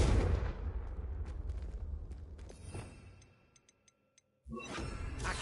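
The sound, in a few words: Confringo blasting spell explosion in a Harry Potter video game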